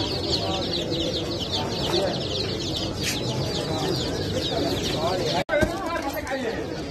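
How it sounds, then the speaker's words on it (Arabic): Chickens cluck and a rooster calls amid a busy, noisy crowd at a Baghdad animal and bird market, with constant chatter, birds close by throughout. "ست دجاجات وديج،"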